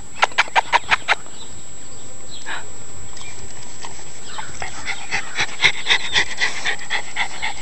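A rescue Cairn Terrier panting close by in quick rhythmic bursts, with a steady background hiss and chickens clucking faintly in the distance.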